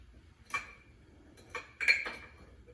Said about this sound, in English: 2 scoops of whatever coffee you have.